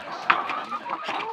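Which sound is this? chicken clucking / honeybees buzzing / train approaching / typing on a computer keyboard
chicken clucking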